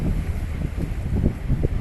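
Strong wind gusts across a city street during a windy, rainy storm, buffeting the microphone with a loud, continuous low rumble that surges and dips. No voices can be heard.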